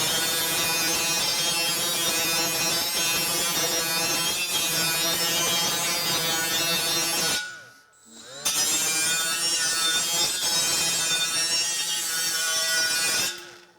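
Milwaukee M12 Fuel rotary tool grinding a garden tool blade to sharpen it, a loud steady high whine that cuts out briefly near the eight-second mark, then resumes for several more seconds.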